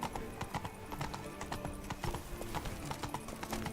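Roach, a horse in The Witcher 3, gallops with a fast, even clip-clop rhythm of hoofbeats, close and steady throughout, with a faint whinny.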